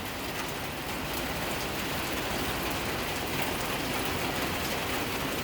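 Heavy rain falls in a steady, dense hiss that never lets up, loud and close, with no voices.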